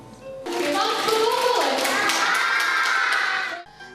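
Young children applauding after a bandura performance, an enthusiastic burst of clapping that starts abruptly and runs for a few seconds, mixed with excited children's voices and shouts before cutting off.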